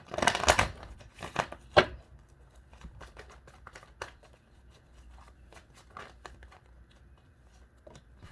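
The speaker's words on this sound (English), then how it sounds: "I'm just gonna do a quick shuffle." A deck of tarot cards is shuffled by hand, opening with a brisk burst of riffling snaps and followed by scattered soft taps and slides, quiet and close.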